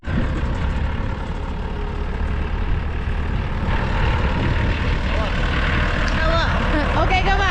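A forklift engine idles and rumbles loudly up close while moving natural gas equipment, with a steady diesel-like drone and some hissing higher noise; people talk over it.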